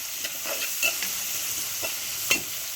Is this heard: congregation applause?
no